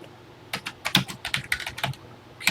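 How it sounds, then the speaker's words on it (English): Program lines typed on a TI-99/4A computer keyboard: about a dozen crisp key clicks in an irregular burst, close and clear, with a short pause before a final keystroke. "Type these lines."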